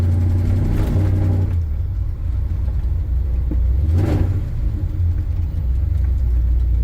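A 1986 GMC 3500 dually pickup with a 454 engine and 3-speed transmission drives along, its deep engine rumble loud and steady from inside the cab, rising briefly with acceleration, with no talking.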